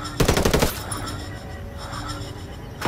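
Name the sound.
gunfire in the video game Ghost War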